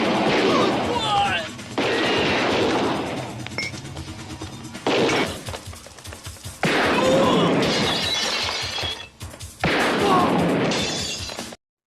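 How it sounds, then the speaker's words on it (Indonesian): Gunfight inside a house in the 1990 film God of Gamblers 2: loud bursts of gunfire and shattering glass come in several dense clusters separated by short, quieter gaps. "Aksi tembak-tembakan pun terjadi di dalam rumah."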